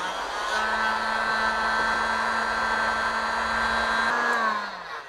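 Heat gun blowing hot air onto a large metal part, a steady loud hiss with a constant whine that runs for several seconds, then winds down and cuts off near the end.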